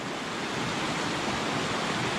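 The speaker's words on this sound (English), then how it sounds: "See some of the waterfall up there." Steady, dense rush of falling water from a waterfall along Marymere Creek on Washington's Olympic Peninsula, a continuous broadband roar with no breaks and no voices.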